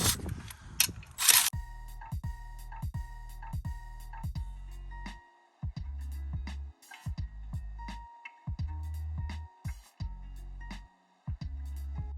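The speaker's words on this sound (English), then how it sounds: "All the bolts are loosened up, so we're spin them out now." A ratchet wrench spins out the cylinder head bolts on a Chrysler 300 Hemi V8, making bursts of rapid, close mechanical clicking separated by brief pauses. The clicking repeats across several bolts.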